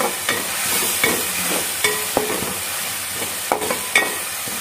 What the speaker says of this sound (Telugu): చూడండి, ఆయిల్ మంచిగా పైకి తేలే వరకు అయితే మంచిగా ఫ్రై చేసుకోవాలి